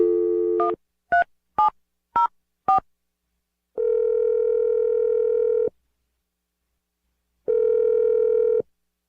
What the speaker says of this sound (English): so I'm going to dial the phone number